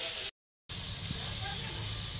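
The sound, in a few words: meat sizzling while being sautéed in spices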